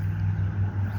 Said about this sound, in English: You hear the traffic. It's actually a relatively busy road here